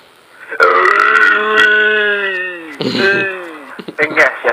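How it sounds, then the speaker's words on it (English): A long, loud, croaking burp dominates, drawn out for a couple of seconds, then a second shorter belch follows, with brief rough throaty noises at the end. "but I had to burp"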